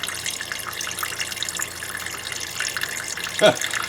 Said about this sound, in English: This is going to drain for a while.